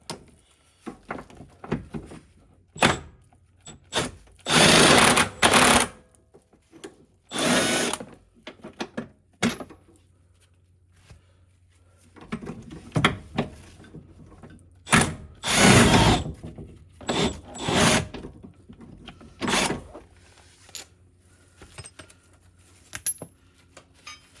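An old car lower control arm bolt is worked loose with a 17 mm wrench or power tool, giving bursts of loud whirring ratchet noise between metallic clinks and rattles in a garage setting.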